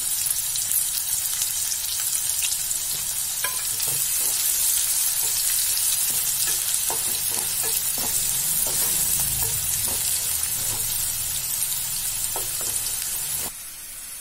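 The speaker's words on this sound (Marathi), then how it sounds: "याच तेलात आता आपण एक कांदा घेतलाय बारीक चिरून" Finely chopped onion fries in oil left over from cooking potatoes for pahadi aloo, a steady close sizzle broken by repeated spatula scrapes and taps, until the sizzle suddenly drops lower near the end.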